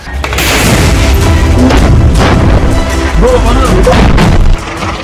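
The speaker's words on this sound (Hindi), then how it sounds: "3 अगस्त की सुबह से भीषण बमबारी कर इजरायल ने गाजा पट्टी के उत्तर में एरेज क्रॉसिंग पर भारी तबाही मचाई है" Heavy explosions from Israeli bombardment at the Erez crossing in the northern Gaza Strip make a loud, sustained rumbling boom with overlapping blasts, cutting off abruptly near the end.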